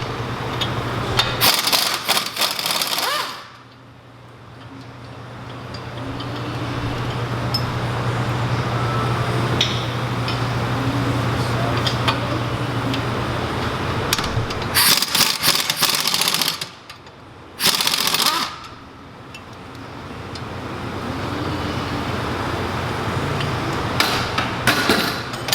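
Spindle bolts are removed from a Nissan 240SX strut for a coilover install, with loud, close rapid rattling bursts from an impact tool, separated by short pauses and a steady hum between.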